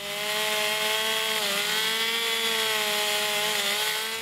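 A chainsaw carving wood whines steadily at high pitch, its tone dipping briefly midway as it bites into the wood, loud and close throughout.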